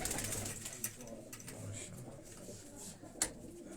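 Pigeons coo softly among high-flying breeding birds in Quetta. The cooing is low and intermittent over faint background noise, with a few sharp clicks and knocks nearby.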